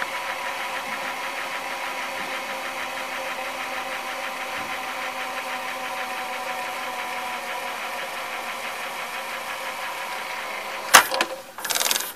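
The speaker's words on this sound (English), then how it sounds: "I'll let it auto stop so I can show you that the idle tire is okay." An NEC N966U VCR tape mechanism runs with a steady whirring hum before auto stopping with a few clunks near the end, heard up close.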